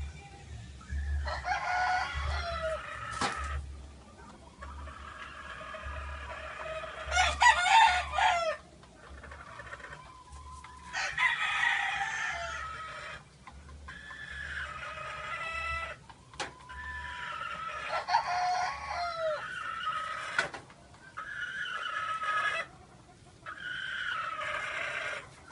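A rooster crows several times in repeated bursts, fairly close, with a low steady hum underneath and no talking.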